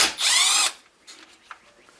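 Close, loud whir of a power driver spinning out a T20 bolt on a Stihl MS 171 chainsaw, roughly half a second long, followed by faint handling clicks.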